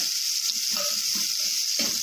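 Chopped onions fry in a pan with a continuous, close hiss of sizzling oil. A few soft stirring scrapes and bubbling pops sound beneath it, and no voices are heard.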